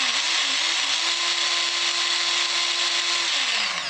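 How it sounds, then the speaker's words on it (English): A Work Sharp knife sharpener motor runs steadily with a loud, constant electric whine and a high hum whose pitch rises briefly at the start, then holds level before dipping near the end. "The motor still runs."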